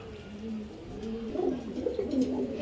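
Giribaj pigeons cooing in low, steady rolling calls, close and moderately loud with a soft hiss behind them.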